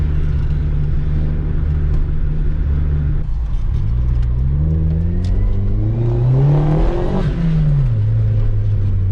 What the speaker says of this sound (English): Literally want to do a burnout.